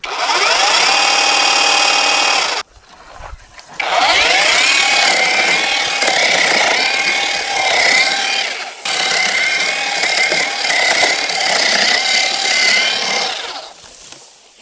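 A battery-powered hedge trimmer and grass cutter runs loudly at its sixth and top speed gear, giving a steady high-pitched buzzing whine. It cuts out for about a second near the start, then runs steadily to the end with no speech.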